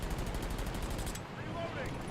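Rapid automatic gunfire during target practice in an Unreal Engine 5 game, a dense fast rattle of shots for about a second followed by lingering rumble and faint tones.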